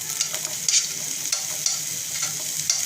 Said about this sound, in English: तो अनियंस को थोड़ा सा सौते कर लेंगे यहाँ पे